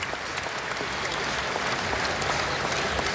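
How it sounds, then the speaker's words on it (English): A basketball arena crowd at Oracle Arena gives a standing ovation during a Thunder vs Warriors game, with dense, steady applause and cheering filling the space throughout at a loud, even level. "the crowd will give him a standing ovation."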